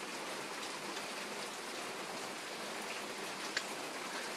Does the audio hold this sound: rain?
yes